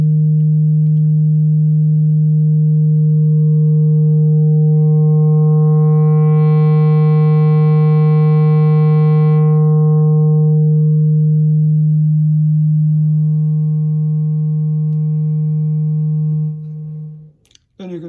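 A sustained synthesizer tone from an Instruō tanh[3] Eurorack module shapes a triangle wave toward a rounder sine wave, one steady pitched note with harmonics that swell and fade midway, then cut off abruptly near the end.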